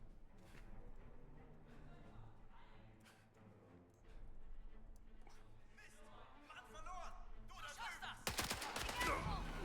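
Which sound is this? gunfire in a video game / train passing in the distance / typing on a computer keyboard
gunfire in a video game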